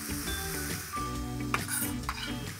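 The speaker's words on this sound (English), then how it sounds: "So in with the speck now" Speck sizzles and is stirred and tossed in a high-sided fry pan, steady frying crackle with scraping and a couple of sharp utensil clinks against the pan.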